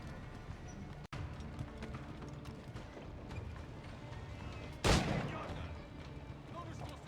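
Gunfire in the video game Assassin's Creed Black Flag: one sharp crack early, then a louder booming blast midway over a busy background of game noise.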